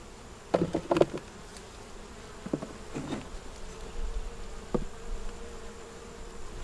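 Honeybees buzz close by around a hive frame in a robbed-out nuc, in scattered short bursts, a few bees droning with faint background hum between them.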